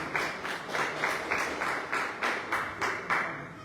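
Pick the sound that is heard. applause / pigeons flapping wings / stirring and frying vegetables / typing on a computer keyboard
applause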